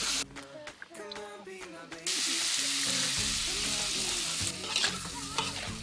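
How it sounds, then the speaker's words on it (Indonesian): Ground spices and squid stir-frying; a loud burst of sizzling kicks in after a couple of seconds and stays strong, with voices heard near the start. "Selanjutnya, bumbu ditumis bersama daging balelo."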